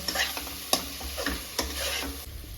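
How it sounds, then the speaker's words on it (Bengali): A crab and potato masala is stirred and fried in oil in a pan: rhythmic scraping strokes of the spoon come every half second or so over a close, constant sizzle. "এটাকে আমি ভালো করে কষাবো যতক্ষণ না ভালোভাবে তেলটা ছেড়ে আসে"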